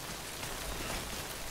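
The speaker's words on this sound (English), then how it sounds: "Oh, a place to hide from the rain." Rain in the video game Death Stranding falls as a dense, continuous hiss and patter on surfaces, steady and moderately loud, with no voices.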